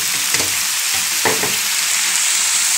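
Spinach frying with onions in a hot pan, a continuous close sizzle broken by a few quick stirring scrapes and clatters, with no talk.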